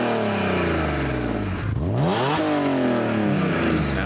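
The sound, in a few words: car engine revving, raspy exhaust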